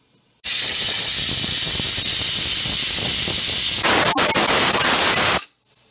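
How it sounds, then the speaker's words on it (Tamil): A pressure cooker cooking chickpeas for chana masala lets out a loud, steady rush of steam for about five seconds, then cuts off abruptly. "அஞ்சு சவுண்ட் வந்துருக்கு குக்கரில் சென்னாக்கு"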